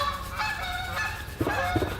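Geese honk repeatedly beside a pond, the calls coming in uneven bursts over steady outdoor background noise, loudest near the end.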